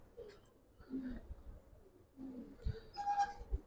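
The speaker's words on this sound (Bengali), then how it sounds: "দেখেন কবুতর।" Pigeons coo softly in short low bursts, quiet and close, with faint background noise and a brief higher chirp near the end.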